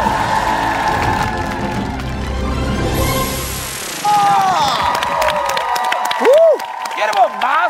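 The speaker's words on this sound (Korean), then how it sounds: "세 명의 신동에 다시 한 번 더 큰 박수가 필요합니다." A TV talent show studio audience's applause and cheering rise loudly under bright stage music, with a sweeping musical flourish and tones toward the end.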